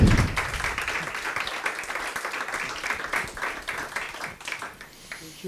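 Audience in a lecture hall applauding after a university talk on medieval music at Notre-Dame, a short burst of clapping that thins and fades over a few seconds, with some voices mixed in.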